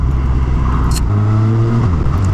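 A nearby 2019 Suzuki Katana motorcycle engine, rated 150 hp, rumbles and revs, its deep tone climbing and holding as the throttle opens.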